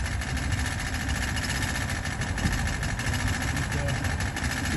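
A boat's engine runs steadily in gear, with a low, constant engine rumble and vibration at close range. There is no clear rise in revs, and voices are faintly present.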